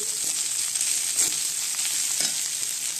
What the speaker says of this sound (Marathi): एक दोन मिनटं परतून घेऊया